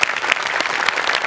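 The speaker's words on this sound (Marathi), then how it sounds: "जोरदार टाळ्या." A comedy-show audience applauds after a comic performance, a dense, loud wash of many hands clapping at once, brief and steady, with no voices over it.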